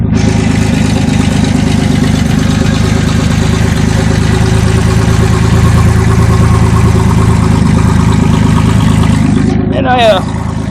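A 1992 Ford Ranger engine idling with no exhaust after the resonator, a loud, raw, steady rumble close up throughout, with a short squeaky sound near the end.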